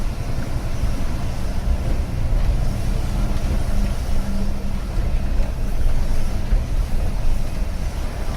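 Dubrovnik shuttle bus driving uphill toward the airport, its engine a steady low rumble mixed with road noise from inside the cabin, continuous and fairly loud.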